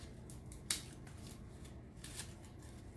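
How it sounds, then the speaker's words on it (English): Scissors trim the outer layer off a flower, with one sharp, close snip and a fainter cut later over quiet background noise. "So I'm just going to cut out this outer layer."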